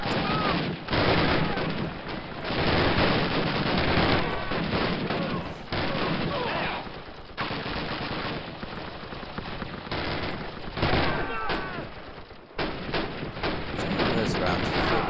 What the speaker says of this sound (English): switch it to the Tommy gun. For close combat.